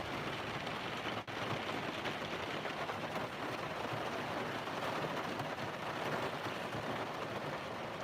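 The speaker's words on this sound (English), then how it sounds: "It's like downpouring, and then it stops, and then it just drizzles a little bit, and then it comes down super heavy." Heavy morning rain pours down steadily, a dense, close hiss of water drumming on surfaces that stays constant throughout, with one brief sharp tap near the start and no voices.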